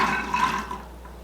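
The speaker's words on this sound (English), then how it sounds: "I'm just gonna add the chickpeas to the pot now." Water and chickpeas pouring into a cooking pot, a soft, steady splashing rush that fades over about a second, close by with no talk.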